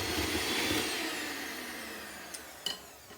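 An electric mixer whirs through gluten-free lemon and ginger cake batter in a mixing bowl, a steady high whine that slowly winds down, ending with a couple of light knocks.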